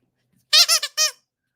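A rubber squeaky toy, slightly deformed but in good shape, squeaks three times in quick succession, close and loud, with a pause before the last longer squeak and silence around it.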